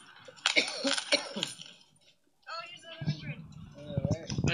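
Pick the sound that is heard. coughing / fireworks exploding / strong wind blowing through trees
coughing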